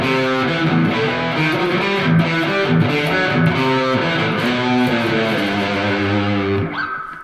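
A loud distorted electric guitar riff through a Blackstar HT Club 40 amplifier on its overdrive voice, with reverb, chugging palm-muted rhythm with quick picked notes, then a sudden stop with a brief ringing tail.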